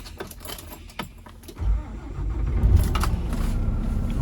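Key turned in the ignition of a 2012 Mack Pinnacle CHU613 heavy-spec truck with a wet kit: a few jangling clicks, then the diesel engine cranks and catches into a loud, steady, close rumbling idle.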